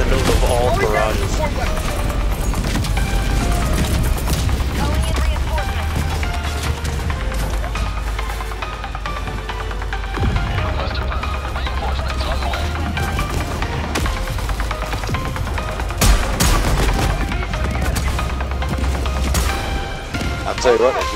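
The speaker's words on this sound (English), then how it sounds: "I just dropped in the middle of all the barrages" Artillery barrage explosions and gunfire in Helldivers 2 during a Super Helldive mission, a dense continuous roar of booms and shots with deep rumbling bursts throughout, loud and close, under occasional talk.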